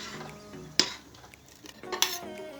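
A spoon stirs Turkish barley vermicelli soup in a pot, giving two sharp metallic clinks against the rim amid soft swishing, quiet and close.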